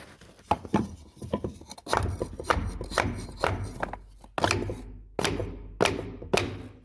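Loose LVL beam struck repeatedly from both sides, a series of sharp, heavy thuds and knocks with uneven spacing, fairly close and loud, with no talk over them.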